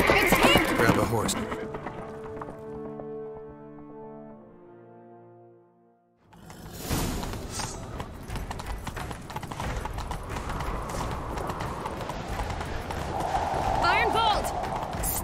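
Horse hooves clattering in The Witcher 3 during a Skellige side quest, rapid clip-clop beating steadily over game music and ambience, with brief character speech at the start.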